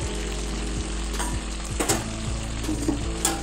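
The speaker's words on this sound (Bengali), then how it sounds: "একটু নেড়ে নেবো" Chana dal with shredded coconut is stirred in a sizzling pan, a continuous close frying hiss with the light scrape of a spoon against the metal, and no voices.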